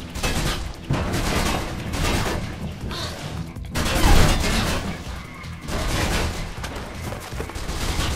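Bursts of gunfire aimed at the player in the Mirror's Edge video game, rapid overlapping shots in several loud volleys with brief gaps between them.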